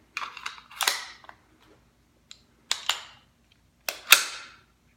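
A SIG P229 pistol magazine is seated into the grip and then ejected in a function check, producing a few sharp metallic clicks and clacks in brief separate bursts, close and fairly loud with no talking.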